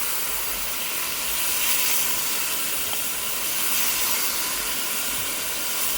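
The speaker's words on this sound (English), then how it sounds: "So I'm just going to deglaze" Red wine poured into a hot pan to deglaze it for beef bourguignon gives a steady, loud hiss and sizzle that fills the whole stretch without pause, with no talking.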